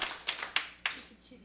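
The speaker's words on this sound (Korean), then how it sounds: "여기 사장님도 박수 좀 쳐주세요." A few distinct hand claps, about four spaced roughly a quarter second apart, from elderly women in a small seminar audience, fairly quiet and close, with a faint trace of something after the claps.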